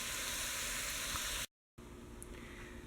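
Ground beef with spices and sugar browns in a pan with a steady loud sizzle, briefly cut off, then continuing more softly.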